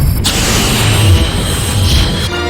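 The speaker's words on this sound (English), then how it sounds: "Kirk and Sulu target the explosion and destroy Chang and his ship" A torpedo strikes Chang's starship and sets off a huge explosion that destroys it, a loud, sustained roaring blast with deep rumbling underneath and a hissing wash on top that holds for over two seconds, with no voices.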